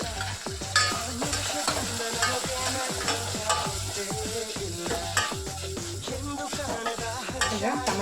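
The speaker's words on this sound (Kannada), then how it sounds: "ಈಗ ಟೊಮೆಟೊ ಚೆನ್ನಾಗಿ ಫ್ರೈ ಆಗ್ಯಾವ." Tomatoes frying in oil in a pan, a steady close sizzle with a regular scraping stir of a spoon against the pan throughout.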